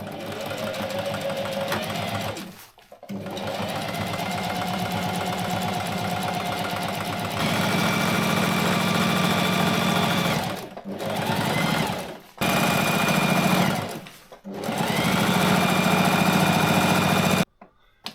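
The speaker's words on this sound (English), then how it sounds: "let's sew this up, and then we'll get on to the seams" A sewing machine stitches a Drascombe Lugger boat tent in long, fast, whirring runs, broken by several short pauses and restarts. It is close and loud, with no talking over it.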